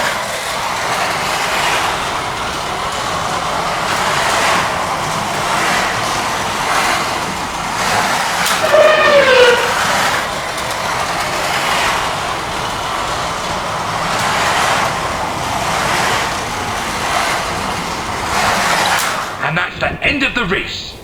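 Carrera Porsche 935 slot cars race around a track in a continuous whirring electric motor buzz that swells and fades in rhythmic passes as the cars lap, with a voice talking over it throughout.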